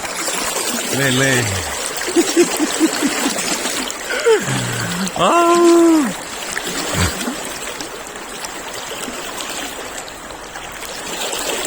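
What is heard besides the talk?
fast-flowing river water from opened dam, Treska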